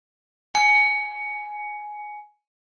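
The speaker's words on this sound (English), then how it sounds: "I will ring a bell to close us out" A single meditation bell is struck once to close a guided meditation, giving a bright clear ding whose ringing tone decays smoothly over nearly two seconds before silence, with no voices.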